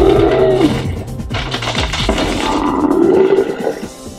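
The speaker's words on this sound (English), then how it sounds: "These two sounds here are the vocalizations of the condor ape." Processed, layered vocalizations of a condor ape creature built through sound design: deep, loud, roaring growls in two drawn-out swells with grunting texture, heard alone.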